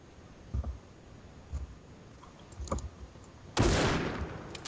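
Gunfire in the mobile shooter Critical Ops, a few faint sparse shots followed by one louder burst near the end, heard at a distance.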